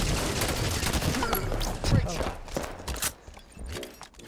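Rapid bursts of Halo 5 gunfire crackle through a busy capture-the-flag match, with sharp shots and volleys clustered through the middle and players talking over the action.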